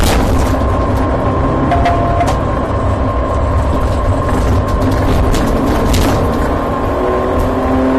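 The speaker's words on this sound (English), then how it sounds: "The car slams into both vehicles and flips over, landing on its side in the middle of the road." Car crash on a road caught by a police dashcam: loud, sustained rumbling and scraping impact noise with sharp bangs, close and dense throughout, no talk.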